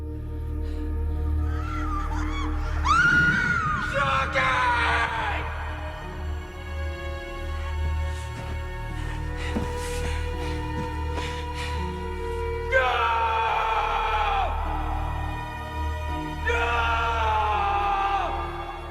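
A man screams for sake in a dramatic scene from the film The Last Samurai, set in a Japanese village home. Several strained, wavering yells rise over a low rumbling background, with quieter stretches between the outbursts.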